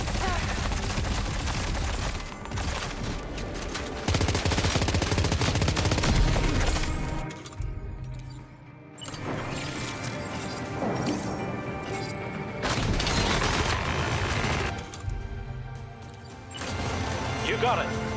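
Dense gunfire in the Death Stranding 2 video game: loud, close bursts of rapid shots and crashing impacts come in waves with brief lulls, mixed with game sound and voices.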